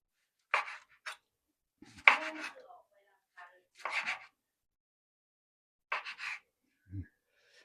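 Ginger ground by hand for a homemade fruit drink: a few short, close crunching and scraping bursts separated by quiet pauses, ending with a single low thump.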